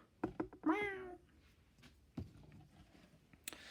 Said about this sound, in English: The cat likes to meow.